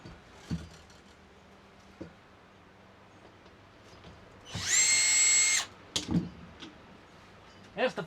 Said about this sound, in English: Tear these old screws out of the floor